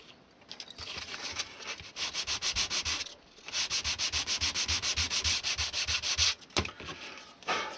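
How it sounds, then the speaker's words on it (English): Rhythmic sanding strokes as textured wood is rubbed smooth for a scratchbuilt N-scale model house, a steady back-and-forth rasp repeated in quick bursts with brief pauses, close and alone. "So I'm going to sand the texture smooth to give it more gluing area."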